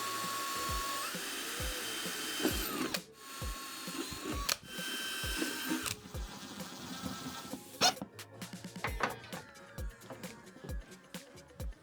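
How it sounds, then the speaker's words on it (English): A power drill bores holes into floating shelf brackets during a DIY build of a double-sided rotating wall, with several short bursts of whirring and mechanical clatter close by. "So now we gotta drill some holes in our floating shelf brackets."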